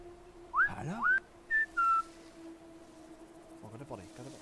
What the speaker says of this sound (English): How do I whistle now? There's a way to do a whistle, isn't there?